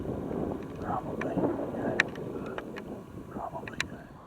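Strong wind buffets the microphone on an open prairie in November, a steady low rumble with gusts and a few sharp clicks, heard from inside or beside a truck.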